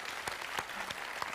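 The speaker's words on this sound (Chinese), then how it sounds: "那大伙儿鼓掌" A television studio audience at a comedy crosstalk taping breaks into brief applause, a soft, dense patter of many hands lasting only a moment.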